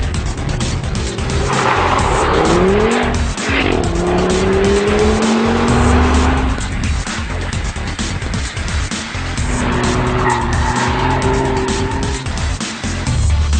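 An Audi RS Q3's 2.5-litre five-cylinder turbo engine, 306 hp with all-wheel drive, revs hard, rising and falling through the gears, with squealing tires and rushing road noise throughout.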